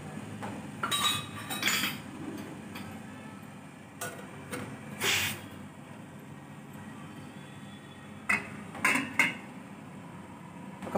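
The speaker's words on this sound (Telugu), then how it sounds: "పాలు గిన్నె పెట్టుకుని పైన మూత పెట్టుకోవాలి." A metal lid set down on a steel milk pot inside an idli steamer in a home kitchen: a few sharp metallic clinks and clatters, close and distinct, separated by quiet pauses.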